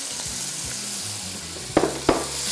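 Chopped onion hitting hot oil in a pan for pasta Alfredo gives a constant hissing sizzle, with two sharp crackling pops near the end and soft stirring knocks beneath.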